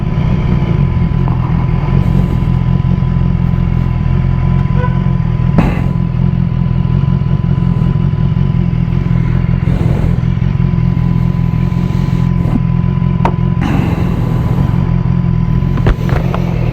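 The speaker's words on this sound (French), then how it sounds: "Une bonne moto bien faite, bien finie." BMW S1000XR motorcycle engine running loud and steady throughout, a continuous close-up roar with a few sharper surges and clattering bumps, no talking.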